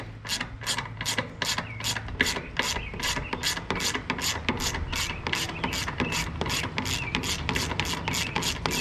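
Rapid ratcheting wrench clicks while a lock nut is loosened on a New Holland 570 small square baler, a steady run of close, evenly spaced clicks with no talk.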